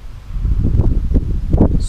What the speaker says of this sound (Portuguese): tá um vento, Nossa senhora, mano, tá ventando demais